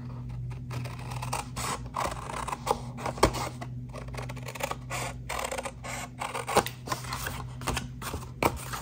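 Scissors cutting craft material, a series of crisp snips and slicing strokes repeated irregularly over a low steady hum, close to the mic with occasional handling noises.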